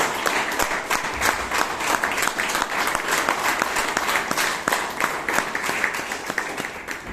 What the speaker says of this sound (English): Give a big round of applause for DTM Nancy Goyal.